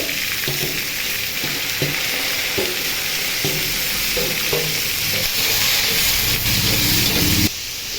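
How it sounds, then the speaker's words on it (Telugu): Sliced onions frying in oil in a pan for gongura chutney, a steady loud sizzle and hiss throughout with occasional stirring scrapes, close up and without talk. "ఇప్పుడు దీనిలో ఉల్లిపాయలు వేసుకోవాలి. ఇలా తరుక్కొని వేసుకోవాలి."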